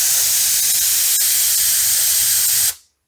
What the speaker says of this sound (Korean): 이렇게 해서 에어건을 가지고선 세 종류의 밸브에 바람을 넣어 봤어요.